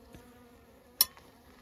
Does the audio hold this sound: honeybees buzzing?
yes